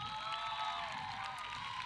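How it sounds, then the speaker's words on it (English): A commencement crowd applauds parents and professors, a dense wash of clapping and cheering that stays steady throughout the brief moment. "Round of applause to our parents and professors."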